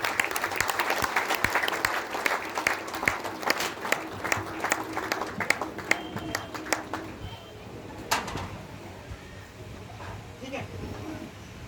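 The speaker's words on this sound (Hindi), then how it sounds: "जोरदार तालियां दोस्तों।" Loud applause from an audience at an outdoor stage event, dense crowd clapping that fades over several seconds while birds coo nearby and voices murmur underneath.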